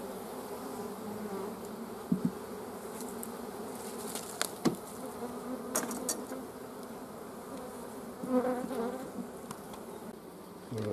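Honeybees buzz steadily around open hives during queen removal, a continuous close drone with occasional sharper knocks and handling noises, no talk.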